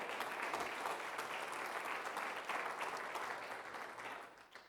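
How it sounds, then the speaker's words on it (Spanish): A church congregation offers a round of applause to the Lord, broad crowd clapping that holds steady before tapering off at the end. "denle una ofrenda de palmas al Señor"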